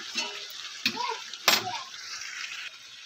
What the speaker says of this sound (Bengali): আলু দিয়ে আবারও আমি কিছুক্ষণ কষিয়ে নেব।